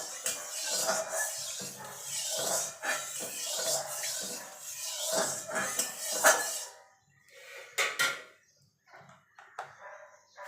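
Metal clatter and scraping of a spatula against a wok as hot oil is spread around its sides, in a home kitchen while preparing boal fish with mustard; busy clinking first, then sparse knocks after a pause.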